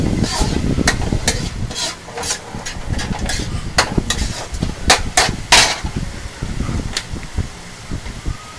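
Ground pork frying in a pan until golden brown, a steady sizzle broken by sharp scraping and clacking of a utensil against the pan at irregular intervals, close by.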